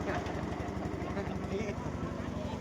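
Engine-driven water pump running at a bridge construction site, a steady rhythmic mechanical chug throughout, with people talking over it.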